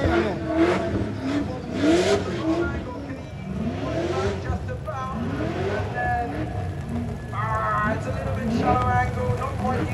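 A drift car's engine revs hard and bangs through the throttle on a wet, rain-soaked track during a drift championship qualifying run, loud and continuous, with a commentator talking over it throughout.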